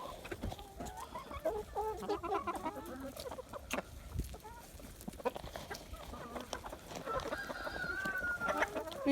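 Several chickens cluck and murmur continuously in a pen close by, busy and layered, with occasional sharper squawks as they peck at soldier fly larvae treats.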